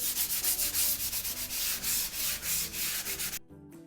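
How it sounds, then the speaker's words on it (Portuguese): Sandpaper rubbed along the edges of an MDF board to remove excess decoupage paper, a rapid series of close, rhythmic scratchy strokes that stops abruptly near the end. "Eu vou tirar esse excesso de papel nas laterais. Vou pegar uma lixa."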